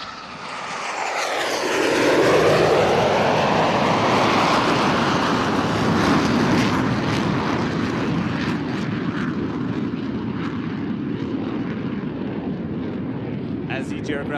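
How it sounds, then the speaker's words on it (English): Jets in diamond formation roar past at the NAS Oceana Air Show, a loud swelling sweep that peaks early and then settles into a long, sustained roar, with an announcer talking over it. "As each aircraft accelerates to 500 miles per hour, they'll perform a reversal turn back towards the flight line."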